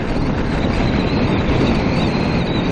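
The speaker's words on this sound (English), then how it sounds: "It's a little windy out today." Gusty wind roars steadily past a rider on a 2017 Ninja 650 out on the road. The buffeting is a loud, continuous rush close to the microphone with no talking.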